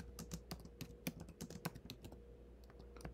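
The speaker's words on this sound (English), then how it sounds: "I have a really good microphone that picks up when I type on my keyboard" Fast, uneven typing on a computer keyboard picked up by a sensitive desk microphone while a bar chart is being made, with close, crisp keystroke clicks in irregular bursts and no talking.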